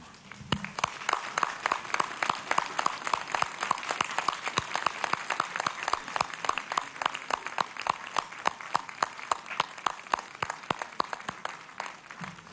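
A large crowd of pilgrims at Lourdes claps for the Virgin Mary during a rosary, a steady dense applause with some louder, sharper claps standing out. It carries on alone for about twelve seconds.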